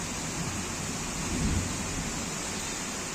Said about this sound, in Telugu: ఉరుములు అయితే తెగొస్తున్నాయి.